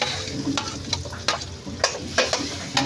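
Garlic and onion sizzle in a hot pan while being stirred for adobo, a steady frying hiss broken by sharp clacks of a utensil scraping the pan several times, close and without talk.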